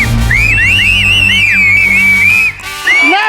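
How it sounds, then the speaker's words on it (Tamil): Loud whistling from a crowd on a Tamil TV cookery show set. Shrill, wavering tones swoop and overlap over a steady background, break off briefly, then return. "எல்லாரும் விசில் அடிச்சாதான் வருவாரு"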